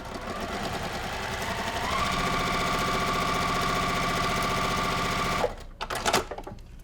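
Sewing machine stitching a seam on a 1930s-style quilt block, a steady close mechanical whir for several seconds that stops, followed by a few soft handling knocks.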